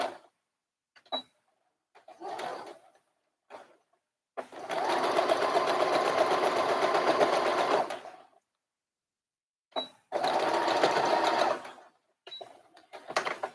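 Sewing machine stitching a pleated seam on a little girl's dress, running forward and then backward to lock it: a long steady motor whir of several seconds, a pause, then a shorter second run, with brief handling clicks between.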